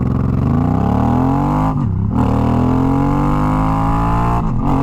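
A motorcycle converted to an automatic transmission accelerates hard from 0 to 60, its engine note climbing steadily and loudly, with a short dip partway through before it winds up again, close and without talk.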